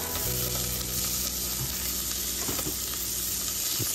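Garlic and onions sizzle steadily in a hot pan for a home-style kare-kare, a dense continuous frying hiss with a few small stirring bumps and no talking.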